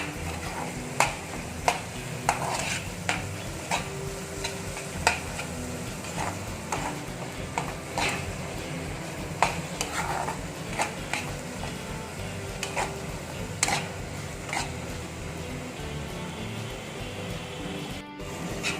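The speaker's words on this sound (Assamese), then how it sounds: "10 পৰা 15 মিনিটমান সময় এইখিনি ভালদৰে ভাজিব" Papad roll stuffing seasoned with black pepper powder fries in a pan, with a low sizzle under irregular sharp clicks and taps of a spoon stirring and scraping throughout, no voices.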